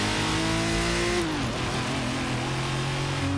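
A Nissan GTR and a Ford Mustang GT race with engines accelerating, a loud continuous roar with rising and falling pitch, briefly dipping before climbing again.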